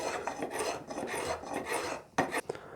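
A hand plane shaves wooden guitar binding flush with the body, a series of short dry rasping strokes in uneven rhythm, close and fairly quiet, with a couple of sharper scrapes near the end.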